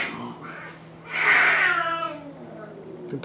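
Pet cats caterwauling and yowling in a scuffle with a possum nearby, one loud drawn-out wail rising in the middle over a low steady hum, with fainter meows before and after.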